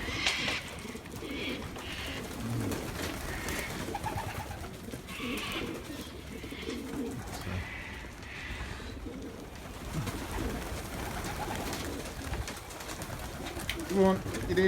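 Pigeons coo repeatedly around a loft with soft, low, throaty calls, some nearer and some farther, over a quiet outdoor background.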